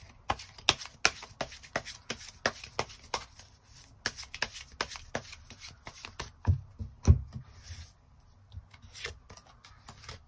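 Tarot cards are shuffled and drawn by hand, producing a busy run of quick crisp card slaps and riffles with short pauses, close up and without talking.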